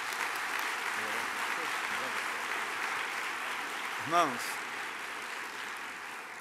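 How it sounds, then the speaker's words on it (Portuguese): Church audience applauding honorees at a pastor's twentieth ministry anniversary service, a sustained even wash of clapping, with a voice briefly speaking over it partway through. "Palmas para eles, por favor."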